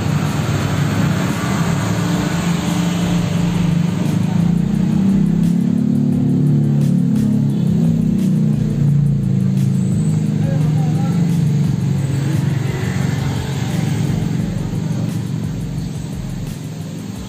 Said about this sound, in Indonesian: Ini berisik ya, banyak mobil lewat